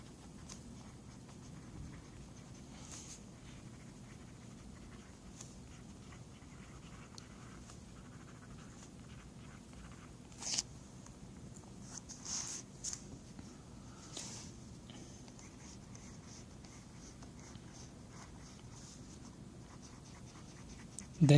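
Lamy 2000 fountain pen with a hooded nib and Monteverde Blue Black ink writing on paper, a quiet steady scratch with brief louder strokes over a soft room hum.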